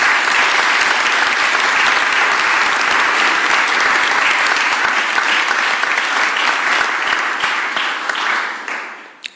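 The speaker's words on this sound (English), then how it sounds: "Let's give them a round of applause." A crowd at a Philadelphia mayoral press conference gives a loud, sustained round of applause marking the end of a city workers' strike. The clapping is dense and steady, then tapers off near the end with one last clap.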